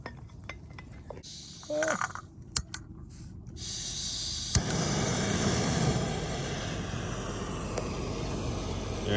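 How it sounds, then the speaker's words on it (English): A Jetboil camping stove lights with a sharp click and roars into a steady, even hiss on a beach in Oyama, British Columbia, after some clinking and handling noises, with a voice briefly heard earlier. "got the jet boil started"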